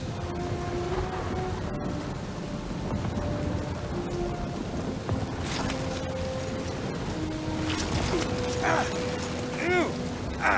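A video game thunderstorm pours steady heavy rain with rolling thunder rumbling underneath, a dense continuous wash of sound with a few sharper crackling bursts near the end.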